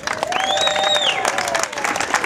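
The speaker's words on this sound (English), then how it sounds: "please give a round of applause" A crowd at a Tea Party tax day rally in Santa Fe, New Mexico, honoring veterans breaks into steady applause with some cheering, and a whistle rises over the clapping.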